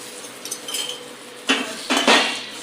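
Sev vermicelli being stirred in hot ghee in a pan over low heat: soft scraping, then a few sharp clinks and rattles of the spoon against the metal pan, close and loud.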